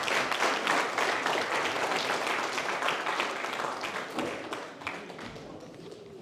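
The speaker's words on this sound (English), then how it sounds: "Clap for Andy." An audience applauds with dense, continuous clapping that gradually thins out toward the end, at a live death anniversary commemoration event in Kortrijk, Belgium.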